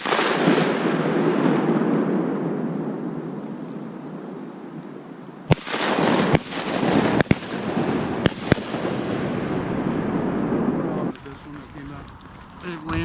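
Shotgun blasts while duck hunting mallards at first light, several sharp, loud reports in an uneven cluster outdoors, heard over wind noise and rustling, with people talking around them.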